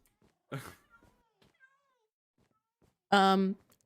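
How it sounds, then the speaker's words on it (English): Minecraft cats give two short meows with a quiet gap between them, the first brief and the second louder and more drawn out, each sounding close and standing alone. "So many cats."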